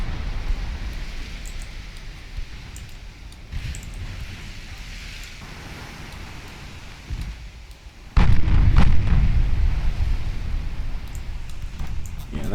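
A warship in the Ultimate Admiral Dreadnoughts naval game takes a torpedo hit. A low rumbling backdrop suddenly gives way to a loud, heavy explosion that keeps roaring with crackling debris, with no talking.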